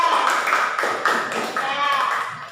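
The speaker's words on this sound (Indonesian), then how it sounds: "Boleh tepuk tangan, ya." Schoolchildren in a classroom clap their hands together in a quick, loud, steady patter lasting a couple of seconds, with voices mixed in.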